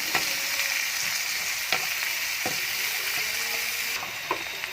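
Chopped onions fry in a pan with a continuous bright sizzle, broken by a few sharp crackles and stirring scrapes, close and fairly loud with no talking.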